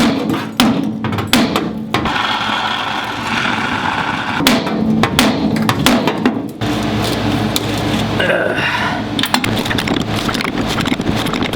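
Sharp hammer strikes knock out a rear shackle on a Chevy truck under restoration, scattered metallic blows close and loud over a constant roar of wind-like noise and workshop clatter.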